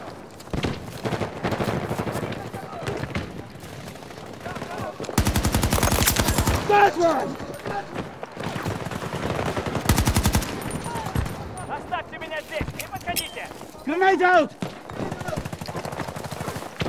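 Heavy gunfire in a Battlefield 2042 match, with broadband bursts of shots around the player and two dense sustained volleys of fire standing out loudly amid the ongoing battle noise.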